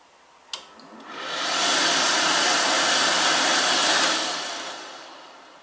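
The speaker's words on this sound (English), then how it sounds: "what was my least favourite hand dryer I filmed? Well, it has got to be this dreadful thing" A poorly performing warm-air hand dryer is triggered with a click, then spins up into a loud, steady whooshing roar for a few seconds before winding down and fading out.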